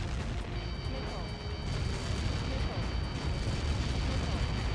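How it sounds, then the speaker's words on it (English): A missile impact explosion in Ace Combat 7: Skies Unknown, a loud sustained rumbling roar with crackling debris and a steady high tone, with a voice talking over it. "How many got caught in that explosion?"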